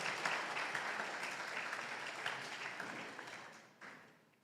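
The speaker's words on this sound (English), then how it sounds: "Yeah, man, clap them." Lecture audience at a Founders' Day event claps in steady applause from a crowd, moderately quiet and somewhat distant, gradually tapering off near the end.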